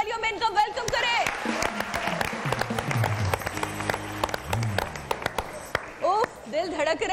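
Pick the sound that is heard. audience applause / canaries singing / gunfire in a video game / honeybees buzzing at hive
audience applause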